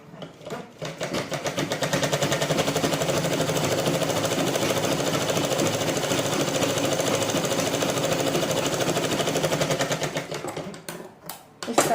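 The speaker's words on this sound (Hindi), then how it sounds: "और इसको ऐसे स्टिच कर देंगे। बहुत अच्छे से स्टिच हो जाएगी गाइस ये।" A sewing machine stitches fabric for a forex blouse with piping, running loud and steady for about ten seconds in one continuous rapid whir before slowing to a stop.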